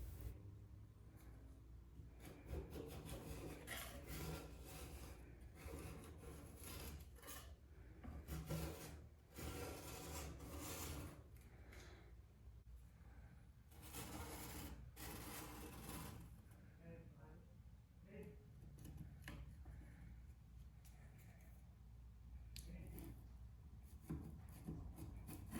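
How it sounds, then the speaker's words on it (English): Paint softened by stripper is scraped and peeled off old wood on a Craftsman fixer-upper house, with steady rasping strokes, close and continuous, pausing briefly between passes. "so here is some clips of very unsatisfying paint peeling"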